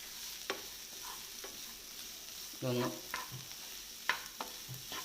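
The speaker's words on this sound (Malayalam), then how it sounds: "പച്ചമണം മാറുന്നിടം വരെ ഒന്ന് വഴറ്റി കൊടുക്കണം" Garlic sautéing in a pan for a clam meat roast, soft steady sizzling with intermittent scraping stirs and clinks, under brief quiet speech.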